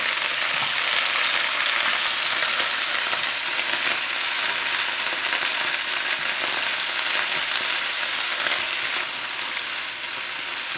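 Chicken with baby bok choy and chopped garlic frying in a pan, a steady loud sizzle with bubbling and crackle running throughout, no talk.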